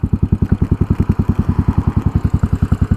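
A 2017 Royal Enfield Continental GT, a Euro 4 ABS model, idles in neutral with its side stand down, giving a steady, loud, close thump of evenly spaced single-cylinder pulses and no talk over it.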